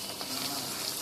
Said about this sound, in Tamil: இப்போ வடையை போட்டுடலாம்.